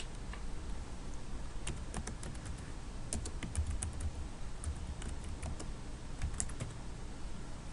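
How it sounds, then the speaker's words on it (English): Typing on a computer keyboard while entering a street number and name into an address search: light, quick keystroke clicks in irregular bursts, close and quiet, with no talking. "I'm going to type in a civic number and street name to search."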